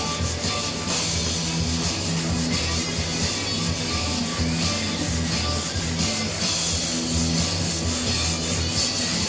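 Rhythmic back-and-forth rasping of sandpaper on a sanding block across a wooden drop-leaf tabletop, close and steady, strokes repeating evenly over a constant low mechanical hum.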